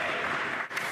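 Members of parliament cheering and applauding in the House of Commons chamber during question period, a dense, steady wash of clapping and crowd noise lasting about a second, with no clear speech over it.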